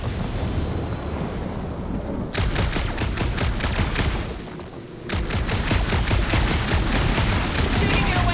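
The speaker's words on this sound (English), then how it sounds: "Shooting your way out of every problem again, Peter?" Rapid bursts of automatic gunfire from Marvel's Guardians of the Galaxy video game, loud and dense, with two sustained volleys broken by a short lull.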